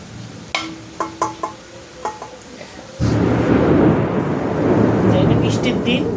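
A few sharp clinks give way to a sudden, loud, steady roar of heavy rain with a low rumble on a stormy day, which continues to the end.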